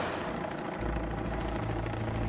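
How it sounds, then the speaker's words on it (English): A helicopter flies back over steep backcountry terrain during a long-line rescue. Its rotor and engine hold a loud, steady, close drone that swells and thickens partway through, with no voices. "The helicopter returns."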